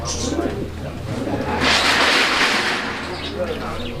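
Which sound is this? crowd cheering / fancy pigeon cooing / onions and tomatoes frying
fancy pigeon cooing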